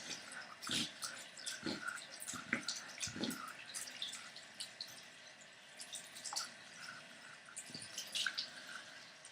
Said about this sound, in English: Make sure I'm moving the jewelry side to side and rinsing it off really good.